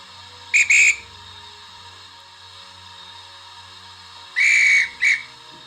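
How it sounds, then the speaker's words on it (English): DCC sound decoder in a model Black 5 steam locomotive gives a dispatch whistle: two short shrill whistle bursts, a pause, then two more, over a faint steady background hum. "While standing, the dispatch whistle will sound."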